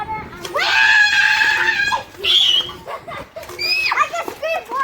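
High-pitched child screams rise and fall across the clip, a long shriek followed by shorter cries, close and loud, with children's voices mixing in amid a family prayer.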